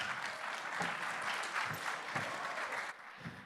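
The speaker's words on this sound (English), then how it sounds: "Please give Alex a big round of applause." An audience at a hackathon opening ceremony applauds with steady, dense clapping for a few seconds, which then thins out at the end.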